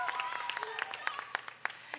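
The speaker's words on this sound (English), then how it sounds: "Give her a big round of applause." A crowd gives a round of applause for the Youth of the Year at a girls' coding camp, a brief patter of claps, faint and somewhat distant, mixed with a voice speaking over it.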